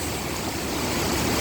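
Clear water splashing and flowing over stones in a natural outdoor stream, a steady, close, broadband rush that continues evenly without any voices.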